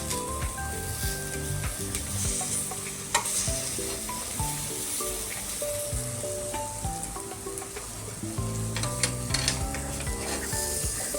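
Small sweet potatoes roast on slow gas in a pan, giving a steady close sizzle with occasional scraping and light clinks of pan and utensil.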